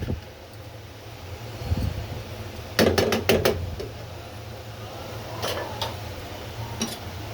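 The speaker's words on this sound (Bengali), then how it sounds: "এখন হচ্ছে নেড়ে চেড়ে দিচ্ছি।" A spatula stirs a cabbage stir-fry with Bombay chili in a pan, producing faint scraping and a quick cluster of sharp metallic clicks, then a few more scattered taps over a low background hum.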